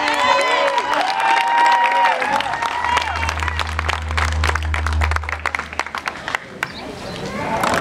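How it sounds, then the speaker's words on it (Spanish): Political rally crowd in Tecate cheering and clapping for the candidate Marina del Pilar, loud mixed shouts, whistles and applause with music and voices woven through, energetic and close. "Un aplauso para nuestra candidata."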